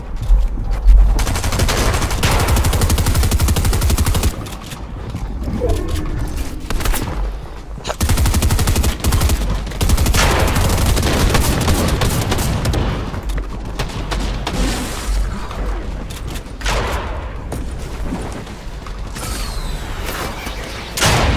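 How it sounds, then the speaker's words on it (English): Gunfire in Fortnite rattles almost without pause, dense automatic bursts and booming shots piling loudly on top of each other for the whole stretch, with brief gaps between volleys. "I'm getting shot!"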